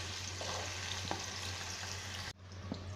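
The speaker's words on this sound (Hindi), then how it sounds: "इसके साथ ही हम सब्जियों को भून लेंगे हल्का हल्का।" Carrots and other vegetables for veg biryani fry in a pan with a steady hiss and crackle and a low hum underneath, then the sound cuts off abruptly near the end.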